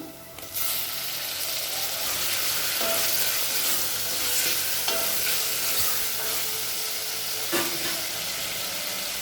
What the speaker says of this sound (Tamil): தக்காளி நல்லா சாஃப்ட் ஆகிற வரைக்கும் வதக்கலாங்க